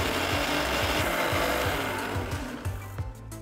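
A kitchen grinder blends garlic, ginger, onion and lemon juice into chutney paste, a loud steady whirring with a rhythmic chopping pulse that eases off and stutters near the end.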